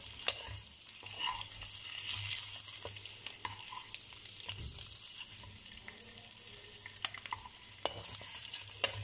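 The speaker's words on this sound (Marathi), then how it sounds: "अशा पद्धतीने छान फ्राय करून घ्यायचे आहेत अंडे।" Eggs frying in a pan for egg biryani, a steady close sizzle with scattered stirring scrapes and light clinks throughout, no talking.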